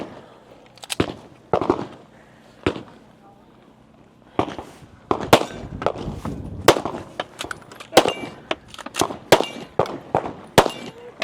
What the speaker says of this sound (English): Now he'll have 8 more shots with the pistol.